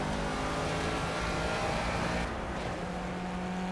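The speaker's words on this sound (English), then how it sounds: "let's open the throttle upward for this start finish straight" A car in a racing game accelerates hard down the start-finish straight of a virtual circuit, a loud, continuous engine roar rising steadily, with a brief shift in tone partway through and no talking.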